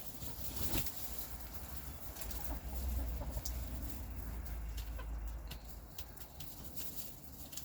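A bantam barred rock hen clucks softly in a cold outdoor setting among other fowl, with short, faint clucks over a constant low background rumble.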